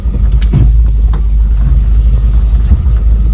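A steady low engine rumble from a Land Rover Discovery 2 creeping along under hill descent control, with a few faint knocks and rattles over the continuous drone.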